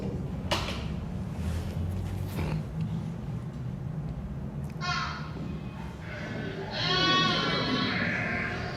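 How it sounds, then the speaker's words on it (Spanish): A large flock of about 600 sheep bleats repeatedly over a constant low rumble, several calls near and some farther off, with overlapping cries building toward the end. "Hay muchos, 600 ovejas."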